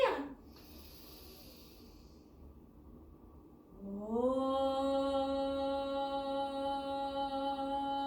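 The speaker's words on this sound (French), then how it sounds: "Inspire." A slow, deep breath drawn in during a relaxation breathing exercise, heard as a soft, quiet airy rush. A faint steady tone rises beneath it partway through.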